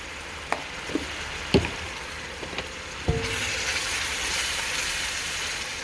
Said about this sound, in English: when you're frying your hot dogs, just keep stirring so that it doesn't burn